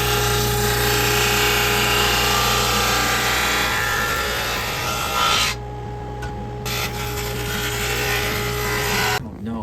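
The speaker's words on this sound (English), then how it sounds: "Want me to run that through the thickness sander so you can see it better?" Thickness sander running guitar tonewood through a luthier's shop machine, a loud steady abrasive roar with a brief dip in the middle, then continuing close up before stopping.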